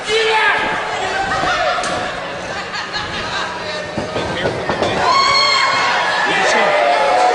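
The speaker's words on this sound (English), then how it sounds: "Well, he just threw the referee out of the ring." At a professional wrestling match, a referee is thrown from the ring amid heavy thuds and slams, with a crowd chattering and roaring throughout and a commentator talking over the action.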